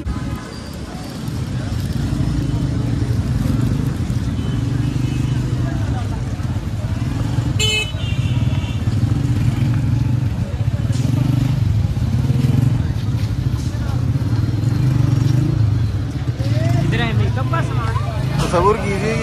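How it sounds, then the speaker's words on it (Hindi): Crowded two-way street in Shah Alam wholesale market, Asia's largest, with motorcycles revving and short horn toots over a constant traffic rumble, people talking throughout the busy narrow lane. "अब ये देखिए कितना रश है इधर, और टू वे ट्रैफिक चल रही है"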